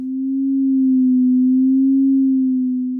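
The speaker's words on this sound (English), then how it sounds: "so we hear, and see, a vibrato effect rather than the creation of new audible harmonics" A pure, steady FM synthesizer tone holds one pitch while wobbling gently up and down in a slow vibrato, alone and clean.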